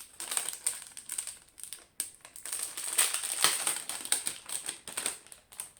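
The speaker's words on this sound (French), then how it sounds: "Je vais les déballer." Cheap packaged bow earrings being unwrapped by hand, continuous close crinkling and rustling of plastic packaging with irregular crackles and short pauses.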